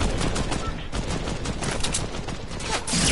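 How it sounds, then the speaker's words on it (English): Gunfire in a Fortnite squads match, dense rapid bursts of shots crackling steadily throughout, loud and continuous with faint voices underneath. "Oh, they're shooting at me."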